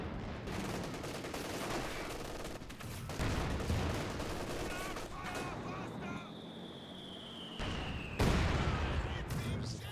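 Heavy mortar shells firing in Company of Heroes 2, a WWII strategy game battle, as loud booms and blasts set against constant gunfire and battle noise, with someone talking throughout.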